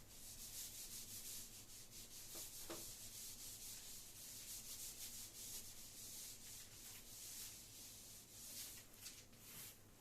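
An eraser or duster rubbing writing off a board during a physics lesson, a continuous close scrubbing sound with steady strokes and a low background hum, no speech.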